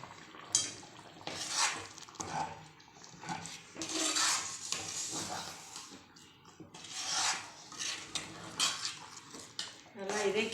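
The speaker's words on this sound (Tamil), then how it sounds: "இதை வந்து நல்லா கிண்டி விடணும்." Urad dal kali is stirred in a pan, with a spoon scraping and knocking against metal in uneven bursts, close and moderately loud, and some brief talk alongside.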